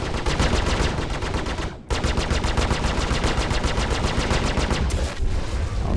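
Ship weapons fire rapid salvos during a Star Citizen space combat, loud fast repeating bursts of gunfire with a brief gap between volleys and no talk.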